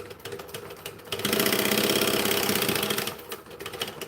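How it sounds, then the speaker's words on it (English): A sewing machine runs a top-stitching seam in one steady, fast-rattling burst of about two seconds, starting and stopping abruptly, with quieter room sound before and after. "we're going to top stitch because it's pretty"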